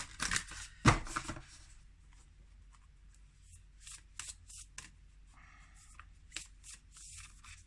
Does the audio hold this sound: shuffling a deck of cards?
yes